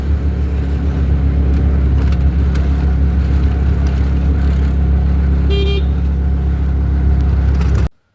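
Steady engine rumble of an auto rickshaw moving through traffic in Goa, with a brief horn toot partway through, loud and continuous until it cuts off.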